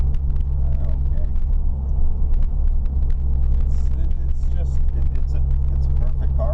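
Inside a 2004 Mini Cooper driving through the city, a constant low engine and road rumble fills the cabin, with occasional faint voices under it.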